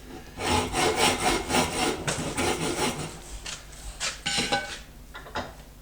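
Metal file rasping across a steel chopper frame tube for a CB750 build, shaping cut lines: close, loud rhythmic strokes in a steady run, thinning to a few scattered scrapes toward the end.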